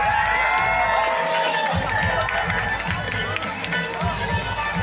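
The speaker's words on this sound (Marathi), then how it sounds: "टाळ्यांचा आवाज थांबला नाही पाहिजे" A crowd at a college event in Karjat cheering and whooping loudly, with continuous clapping and shouting and a voice over a loudspeaker above the noise.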